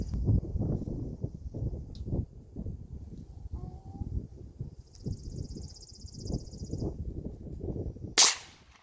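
A Mossberg 715T rifle fires one sharp, loud shot at a target 30 yards away. The crack lands near the end, after a stretch of steady low background rumble and faint outdoor noise.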